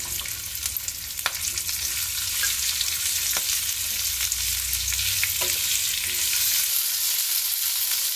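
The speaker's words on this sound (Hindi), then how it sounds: "पहले हम इसमें लहसुन डालेंगे। फिर आप इसमें प्याज ऐड कर दीजिए।" Garlic and onion fry in hot oil for a tomato onion garlic chutney, a dense crackling sizzle close by with a few spoon clinks against the pan and no talking.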